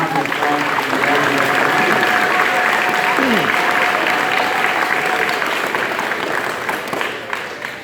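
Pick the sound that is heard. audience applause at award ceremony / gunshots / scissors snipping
audience applause at award ceremony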